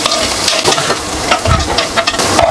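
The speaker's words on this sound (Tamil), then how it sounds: "அதில் வெங்காயம் வதக்கிக்கலாம்." Onions and green chillies frying in a pan for a dried-fish curry, a loud close sizzle with frequent stirring scrapes and clatter of the spatula.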